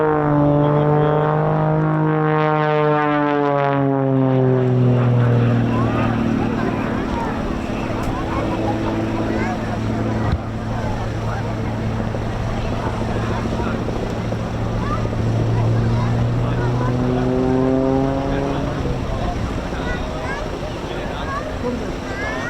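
An Extra 300 aerobatic propeller plane roars through a display routine of rolls and hovering on the prop, its engine droning with rising and falling pitch sweeps as it passes, steady and fairly loud with wind buffeting throughout.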